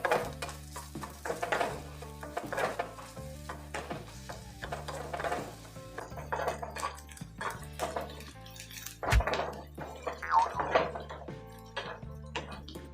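Chopped onions frying in a pan for dhaba-style haryali chicken, a soft sizzle under repeated rhythmic scraping and clanking of a spoon against the pan, with a low steady hum throughout.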